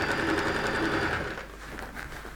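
A sewing machine stitches a seam on a coat, whirring steadily up close before easing off and fading toward the end.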